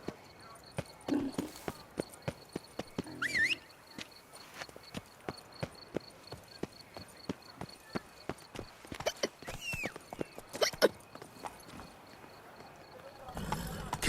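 Roach, Geralt's horse in The Witcher 3: Blood and Wine, gallops with rapid, crisp hoofbeats that run throughout, under intermittent voices and occasional clanks.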